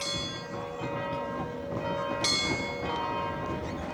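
A clock tower bell rings out in a fortified Romanian town, a steady resonant tone with a sharper strike partway through, heard at a distance over outdoor ambience.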